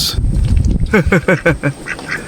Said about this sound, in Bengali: আবার দেশি হাঁস দেশি হাঁস কি সুন্দর